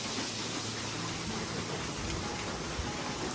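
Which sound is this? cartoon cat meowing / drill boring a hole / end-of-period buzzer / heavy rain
heavy rain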